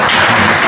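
A brief, dense burst of audience applause at an interactive dialogue with National Assembly members, many hands clapping together close and steady for under a second.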